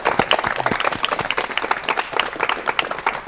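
A crowd applauds steadily and warmly, many hands clapping together at a lively, even level with no voices standing out.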